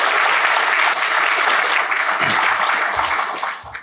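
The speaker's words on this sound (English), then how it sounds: "so please give him a round of applause" Dense, steady audience applause in a hall, sustained at full strength for several seconds before tapering slightly at the end, with no talk over it.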